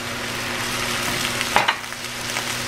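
Wine, Worcestershire and Dijon mustard hit a hot pan for Steak Diane, making a loud, continuous sizzle up close, with a brief stir or splash partway through.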